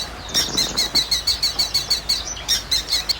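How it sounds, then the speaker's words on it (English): A falcon calls in a rapid, evenly spaced series of about a dozen sharp, high chirps, clear and fairly close with little else around it. "Falcon."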